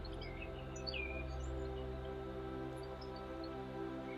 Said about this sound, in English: Notice the colours of the bird, the sounds of the bird,